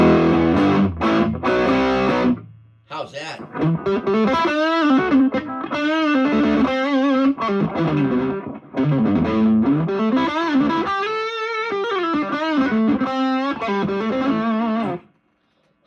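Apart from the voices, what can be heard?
guitar amp crunch channel distortion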